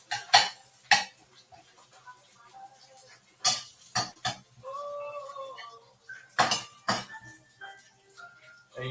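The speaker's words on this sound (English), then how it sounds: "Now we just gonna let these saute for a minute." Onions and bell peppers sauteing in a pan, heard mostly as loud clanks of a utensil against the metal pan and ringing clinks, with only faint sizzling between the strikes.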